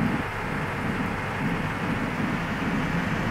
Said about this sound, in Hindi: तो गाइस बारिश भी हो रही है,